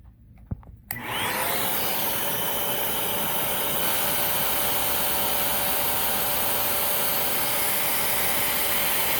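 Sebo Dart vacuum cleaner running during an airflow test at the bag chamber: a brief click, then the motor starts and holds a loud, steady roaring whoosh with a faint whine, close by.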